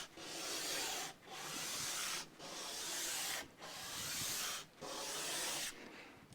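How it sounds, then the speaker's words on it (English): A part of a Taylor GS Mini acoustic guitar is sanded by hand under firm pressure: five or six even, rasping strokes, each about a second long, separated by brief pauses, close and fairly quiet. "all I now need to do is to sand this down with a fair bit of pressure to begin with"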